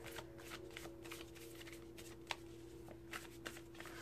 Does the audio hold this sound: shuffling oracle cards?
yes